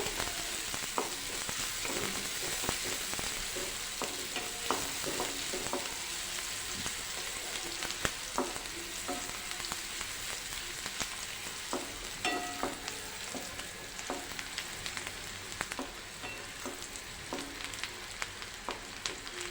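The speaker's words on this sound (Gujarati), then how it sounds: "તેલ ગરમ થઈ ગયું છે હવે આપણે આ બે ચમચી જેટલી ઝીણી સમારેલી ડુંગળી એડ કરી દઈએ" About two spoonfuls of finely chopped onion fry in hot oil, giving a continuous close sizzle with scattered crackles and light stirring taps.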